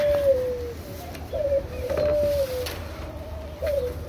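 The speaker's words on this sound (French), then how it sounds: "Les tourterelles nichent dans des petites cases." Turtle doves in an aviary give a series of soft, close cooing calls, four or five drawn-out notes spaced a second or so apart over a low background hum.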